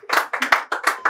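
Audience clapping in short, uneven bursts of applause, close and fairly loud, with no talk over it.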